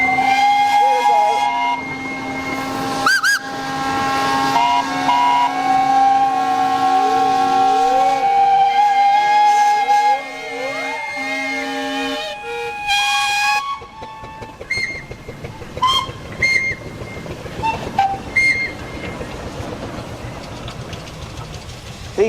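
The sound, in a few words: steam engine whistle at steam rally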